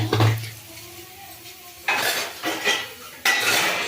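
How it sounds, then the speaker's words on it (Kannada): A pressure cooker is set down on a home kitchen stove while sprouted horse gram curry is prepared, giving a few sharp metallic clanks and clatters at close range with short pauses between them and no talking. "ಕುಕ್ಕರ್ ಇಟ್ಕೊಳ್ತೀನಿ"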